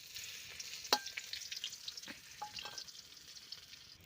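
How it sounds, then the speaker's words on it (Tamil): Garlic and dried red chillies fry in a hot pan, giving a steady close sizzle and hiss with a sharp pop near the start and scattered crackles throughout; no one speaks. "இப்போ பார்த்தீங்கன்னா பூண்டு வரமிளகாவும் நல்லாவே வதங்கிடுச்சு பாருங்கள்."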